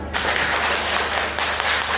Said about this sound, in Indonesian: Sekali lagi beri tepuk tangan untuk mereka semua